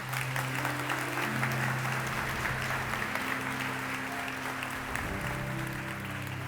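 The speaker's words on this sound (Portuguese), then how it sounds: "Você pode aplaudir Jesus?" A church congregation claps continuously in a sustained wash of applause, with a low sustained organ or keyboard chord droning underneath throughout.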